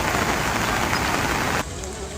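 Heavy rain in Palghar near Mumbai hisses as a loud, steady downpour, then drops abruptly to a softer patter for the last half second.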